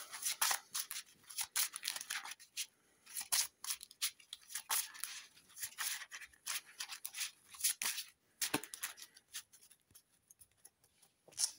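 Board game damage and injury cards being shuffled by hand, a close run of quick papery riffles and rustles with short pauses between bursts, with no talking over it.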